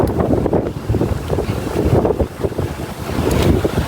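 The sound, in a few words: wind blowing at sea near boat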